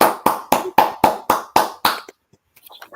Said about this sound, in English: round of applause to Lucy